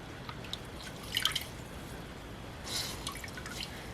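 Water drips and splashes faintly while gloves are wetted before dyeing. Two soft bursts of trickling stand out against a quiet background.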